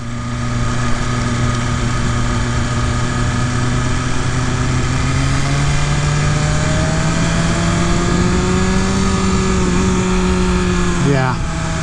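A 2022 BMW S1000RR superbike engine idles high while warming up, its steady tone slowly rising in pitch, then ends in a quick rev blip, close and loud, with a voice talking over it.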